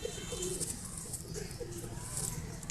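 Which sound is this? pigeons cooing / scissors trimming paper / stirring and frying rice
pigeons cooing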